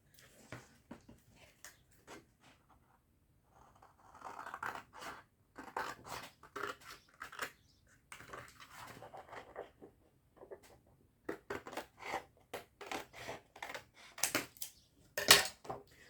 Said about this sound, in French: Où est mon grand ciseau?